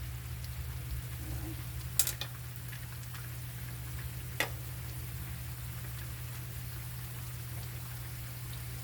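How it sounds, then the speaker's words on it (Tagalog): A steady low bubbling and sizzling of ground meat and mixed vegetables simmering in a pan, constant throughout, with a couple of faint clicks. "kumukulo ng ating giniling na may halong mixed vegetables"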